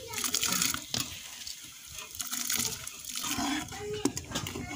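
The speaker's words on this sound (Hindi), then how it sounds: "चावल मैंने पानी में भिगो के रखे थे, पानी निकाल देती हूँ चावलों से" Soaking water poured off rice in a home kitchen, an uneven splashing trickle with a few clinks, fairly close.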